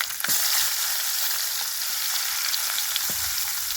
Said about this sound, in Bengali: এখন সবগুলোকে তুলে নিব সে একই তেলে দিয়ে দিব রসুন আর পেঁয়াজ